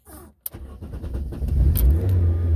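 A Fiat Uno running on LPG starts up, with a door or key clunk, then the engine catches and settles into a low, steady idle rumble close by.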